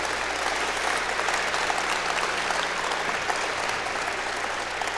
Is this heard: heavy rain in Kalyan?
no